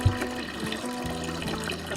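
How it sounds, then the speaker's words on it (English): Filtered water running from a kitchen tap into a broth pot for Vietnamese crab and pork noodle soup, a steady close splash and trickle with no talking. "I'm gonna fill our pot that we're using to make the broth up"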